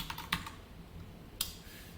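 A few quiet, scattered keystrokes on a computer keyboard while JavaScript code is typed, with sharp isolated clicks and a faint room hiss between them.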